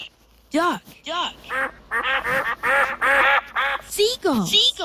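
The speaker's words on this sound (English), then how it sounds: "Duck. Duck." A duck quacks in a series of loud, close, nasal calls, several bursts in quick succession with short gaps between them.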